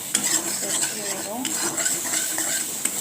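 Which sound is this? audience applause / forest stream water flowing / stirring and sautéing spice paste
stirring and sautéing spice paste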